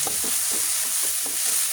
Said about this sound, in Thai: จากการเทน้ำซุปเลย กระทะร้อนๆทุกอย่างก็จะฟูขึ้นมาจะทำให้เห็ดเราสุกเลย